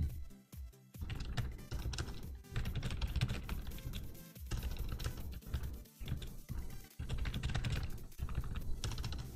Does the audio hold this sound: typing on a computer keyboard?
yes